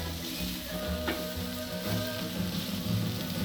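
Beef burgers cook on a Ziggy barbecue grill with a continuous, dense, close sizzle and faint crackles throughout, with no voices.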